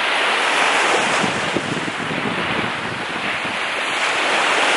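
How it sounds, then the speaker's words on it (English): Steady roar of Gulf of Mexico surf washing onto a beach at Gulf Shores, with a constant wash of wind noise and no voices. "listening to these beautiful waves,"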